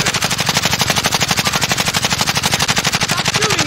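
Sustained rapid automatic gunfire in a video game, loud, close and evenly pulsed, continuous throughout with no talk.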